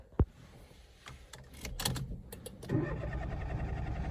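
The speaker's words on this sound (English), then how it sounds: "we'll try and start the car" A sharp click, then a Citroen C1, Peugeot 107 or Toyota Aygo starter motor cranks briefly before the engine catches and settles into a steady idle nearby.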